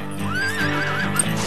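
A three-month-old horse neighs close by, one long rising and falling whinny on a ranch, with faint hoof shuffling underneath and no talking.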